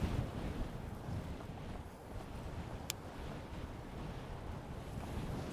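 A strong headwind buffets a cyclist on a bike tour near Namyang, South Korea, a continuous loud, rough roar of wind noise across the microphone with no pause.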